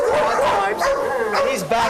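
A shelter dog with a medium-length coat gives a quick burst of yips and barks up close, mixed with a person talking over it.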